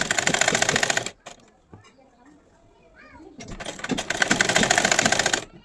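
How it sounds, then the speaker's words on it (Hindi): A sewing machine runs in rapid bursts while stitching along the edges of kurti fabric, a close, loud mechanical whirr that stops for a pause with soft handling noises and then starts up again. "इस तरीके से हम किनारे किनारे एकदम स्टिचिंग करेंगे"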